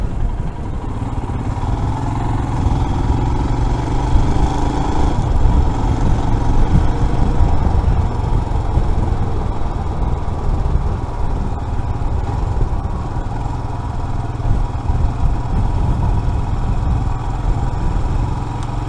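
A Royal Enfield Himalayan motorcycle runs steadily on the road, its engine drone continuous and loud alongside wind and road noise from the rider's position, with no speech.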